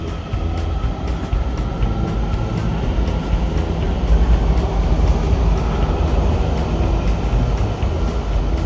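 Loud, steady rumble of a WMATA Silver Line metro train running near Washington DC, a continuous low roar with faint rhythmic clicks throughout.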